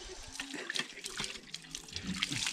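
Tap water runs and splashes faintly while a pot is scrubbed with a Vim bar in a village kitchen, with soft scraping and a little talk in the background.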